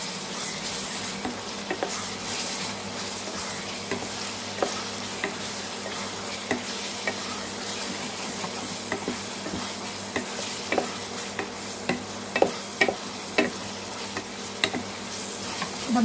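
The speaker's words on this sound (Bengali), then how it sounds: "আদা রসুন পেস্টটা দিয়ে দেবো আমি এবার। এটাকে আমি মিক্স করবো।" Ginger garlic paste being stirred into a frying Kerala-style mutton curry, with a steady sizzle and the scrape of a spoon. Louder clanks and scrapes come through more often toward the end.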